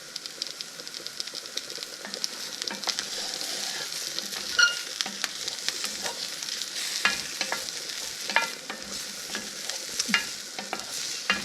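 Asparagus browning in an oiled pan, a steady close sizzle and crackle of frying with occasional pops and small stirring clicks, no voices.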